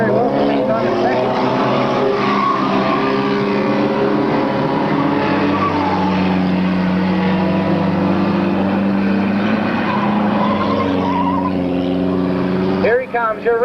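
Race cars at an oval track race a final lap and stream past with a continuous loud engine roar and shifting harmonic whine, while a track announcer talks over them throughout.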